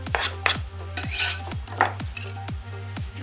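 A utensil stirs a mixture of egg, milk and chopped greens in a bowl, clinking against the sides in a quick, steady rhythm of about three strokes per second, close and clear with no talk.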